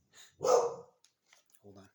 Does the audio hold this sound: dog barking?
yes